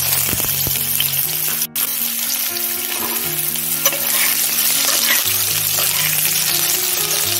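Boiled potatoes hit hot oil spiced with cumin and dried chili and fry loudly, a dense close sizzle and crackle that holds steady throughout with no voices.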